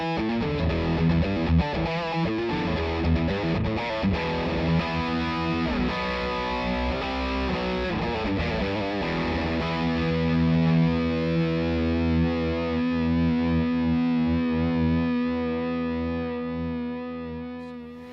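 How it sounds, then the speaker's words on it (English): A heavily distorted electric guitar plays riffs and sustained chords through a VOX MV50 amp on its high-gain rock setting, saturated and loud, ringing out at the end. "rock is for classic high gain tones"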